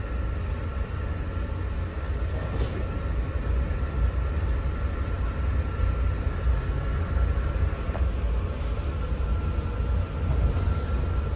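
Steady rumbling ride aboard an LIRR passenger train on the Main Line toward Wyandanch, with continuous low wheel and track roar, a faint high whine and occasional clicks over rail joints, no voices.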